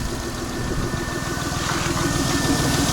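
An ES9A V6 car engine idles after an oil-leak repair, producing a loud, close, steady rumbling hum with an even pulsing texture and no talking.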